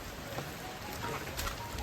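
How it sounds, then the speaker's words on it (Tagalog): Light rain falls in a steady, even hiss that never breaks or swells. It sounds fairly close, with no talking over it. "Medyo mahina na yung ulan."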